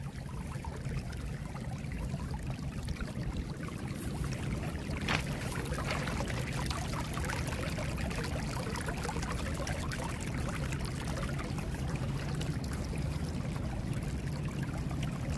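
Meltwater during a thaw pours and rushes steadily through a drainage system, a continuous close wash of flowing water with no break and no voices.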